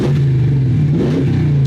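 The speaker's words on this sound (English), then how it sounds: "The Ram 1500 pickup truck, the V8 bad boy broadcast partner of Macquarie Sports Radio." A Ram 1500 pickup truck with a V8 engine revs steadily, a loud, close, low rumbling drone that rises slightly in pitch near the end, with no talking over it.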